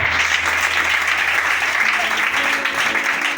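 A church congregation claps together to praise the Lord, a loud, dense, steady burst of applause filling the room with a few voices mixed in.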